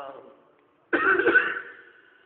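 A man clears his throat and coughs once or twice, a short rough burst close by, following a stretch of his own speech.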